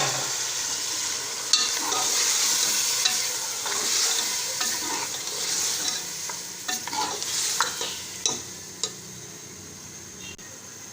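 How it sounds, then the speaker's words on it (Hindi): Beef pieces sizzling in masala for beef biryani, a constant frying hiss with repeated spoon scrapes and clinks against the pot as the meat is stirred. "अब हम इसमें गोश्त शामिल करेंगे।"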